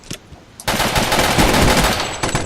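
AK rifle in the video game Boring Man fires a loud, rapid automatic burst that runs for nearly two seconds, close and dense, after a short quiet lead-in.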